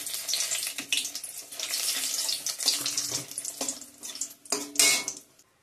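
Dried red chillies and bay leaves hit hot oil in a kadai, giving a steady crackling sizzle throughout, with a few brief clinks of utensils and louder bursts near the end before it fades out.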